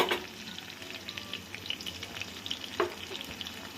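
Chopped home-grown red chillies hitting hot oil with fried rice in a pan, a steady close sizzle with crackling pops and one sharper burst near the end, no voices.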